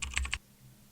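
A short burst of about five crisp keystrokes on a computer keyboard while entering an invoice amount, clicking in quick succession and then stopping into near silence.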